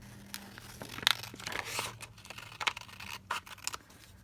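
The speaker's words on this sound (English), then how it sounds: "So I'm just going to cut this across here." Paper being cut with scissors while assembling a glue book junk journal, giving soft crinkling snips and tearing rustles, close and fairly quiet, with a couple of sharper cuts standing out.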